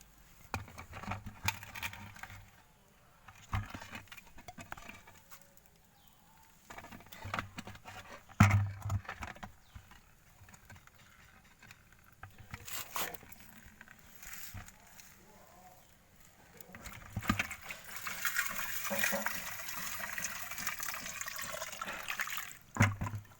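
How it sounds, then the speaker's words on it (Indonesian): Water poured from a household water supply over a modified sluice pail used for gold panning: intermittent splashing and trickling that swells into a louder, steady gush near the end, with faint talk and knocks in between. "kita bisa guyurkan di sana, karena ini kebetulan di rumah ada pengguyuran airnya"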